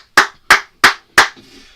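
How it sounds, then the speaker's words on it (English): Four sharp hand claps at a steady, unhurried pace, close and loud, followed by a faint rustle. "I'm back on air so I can clap even more."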